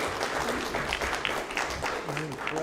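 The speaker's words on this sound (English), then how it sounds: "one more round of applause for these young men and women for such a great season" Audience applause fills a volleyball and cross country banquet, a steady wash of clapping from a crowd while voices talk over it throughout.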